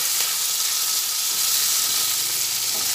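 Ginger and spices frying in hot oil give a steady, loud sizzle and hiss that runs unbroken throughout, close up, with no talking.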